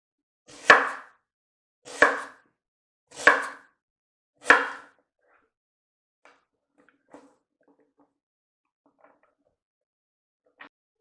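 A knife slices an onion into semicircles on a board: four firm, evenly spaced chops, then a few faint taps and one last light knock, with no talking.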